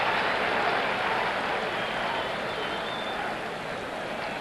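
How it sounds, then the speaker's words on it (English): A baseball stadium crowd at the 1970 World Series, Game 5, Reds against Orioles, with two out in the 8th inning: a steady, dense wash of applause and crowd noise that holds at an even level throughout. "the applause gets a little louder with every out now"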